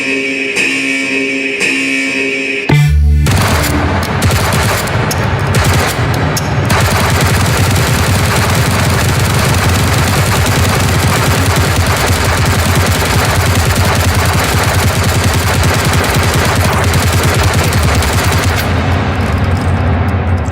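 Two guns fire in the VR game Hot Dogs, Horseshoes and Hand Grenades, releasing a sustained, loud barrage of rapid automatic shots that starts abruptly after a brief opening and continues nearly unbroken to the end.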